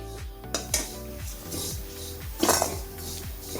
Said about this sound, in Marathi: छान खरपूस असं भाजून घ्यायचंय आपल्याला. छान खोबरं भाजलं गेले.